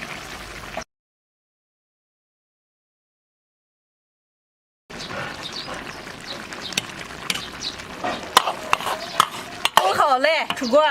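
Pork belly, dried green beans and glass noodles stewing in a pot, heard as soft bubbling and stirring after a stretch of silence, with utensil clinks and scrapes growing louder toward the end.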